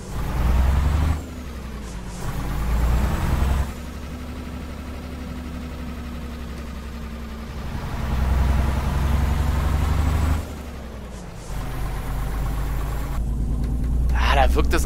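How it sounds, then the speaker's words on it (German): A truck engine in Euro Truck Simulator 2 chugs with a deep, steady clattering drone, swelling and easing in waves as the rig drives through winter scenery, loud and close, with someone talking over it. "Ah, dieses Klackern von diesem Motor, das ist schon herrlich."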